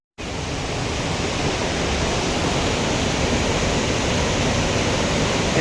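Devkund waterfall in Odisha roars steadily as a loud, dense, unbroken rush of falling water that sets in abruptly and holds constant throughout, with no voices over it.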